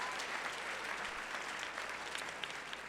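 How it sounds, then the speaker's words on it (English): A round of applause from the audience at the Canadian Congress Nation Builders Awards 2024, a steady wash of clapping heard from a distance. "round of applause."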